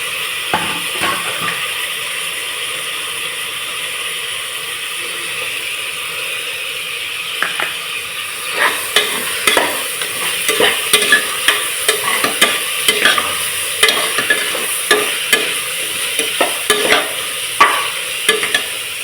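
Tomatoes stirred and frying in a pressure cooker pan for mutton biryani, with steady sizzle and repeated scraping spoon strokes that grow busier and more rhythmic in the second half, close and alone.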